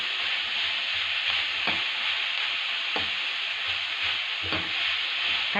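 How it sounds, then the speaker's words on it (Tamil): Chopped onion and eggplant sizzle steadily in hot oil in a pan, with a constant bright hiss and occasional soft scraping knocks of stirring, close by with no talk. "வெங்காயம் கூடவே கத்திரிக்காய் போட்டோம்னா வெங்காயம் வதங்கும் போதே கத்திரிக்காயும் சேர்ந்து வதங்கும்."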